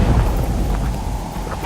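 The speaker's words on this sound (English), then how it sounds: "Good storm noise." Thunderstorm in the horror video game Asylum: a steady, loud roll of low rumbling thunder with a broad wash of rain hiss over it, continuous and close for the whole stretch with no voices.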